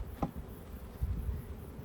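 Honey bees buzzing at an open Langstroth hive in summer, a faint low hum with a soft tick near the start and a slightly fuller swell midway.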